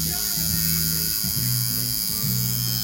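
Electric tattoo machine buzzing steadily and loudly up close during a cover-up tattoo, a continuous whine with a slightly wavering low drone and no speech.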